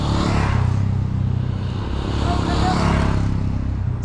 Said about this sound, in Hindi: सारे बाइक, कितने ही लंबी गैंग आ रही है